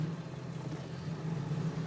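A 1999 Ford F250 4x4 with a 7.3L engine runs with a steady, low, rumbling diesel hum heard from inside the cab, with no talk.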